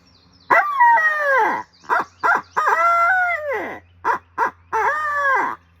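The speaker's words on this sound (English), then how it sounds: "What I got right here is my little owl hoot." A handheld owl hoot game call, a hunting call with an owl on its front used in turkey hunting, blown in loud, close, wavering hoots: a long opening call, then short bursts and two more drawn-out sweeping hoots.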